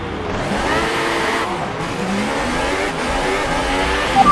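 A race car engine in a racing video game revs hard on a practice start, a loud, steady high-pitched roar that holds its pitch for a few seconds with no talking.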